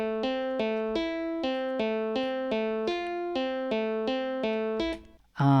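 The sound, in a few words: guitar sound from Master, unprocessed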